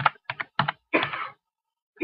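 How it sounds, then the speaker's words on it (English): Fingers tap out an IP address on a computer keyboard in quick clustered bursts of keystrokes, close and clear, with a short pause before a final few taps and no voices. "We'll type the IP address into the actual URL bar."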